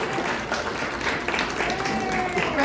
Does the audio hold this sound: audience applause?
yes